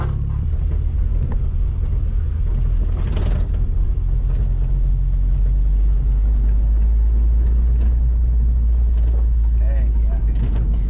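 A 1979 Chevy LUV pickup truck drives past up close with a steady, loud engine rumble and rattling mechanical noise, broken by occasional knocks and clunks.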